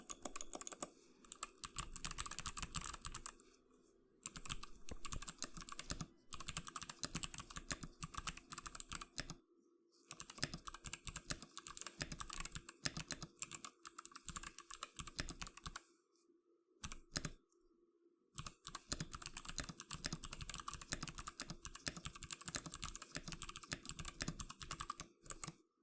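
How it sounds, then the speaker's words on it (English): Brisk typing on a hot-swap mechanical keyboard, with dense runs of clacky keystrokes broken by a few short pauses, close and steady throughout. "you'll be getting a typing test from me"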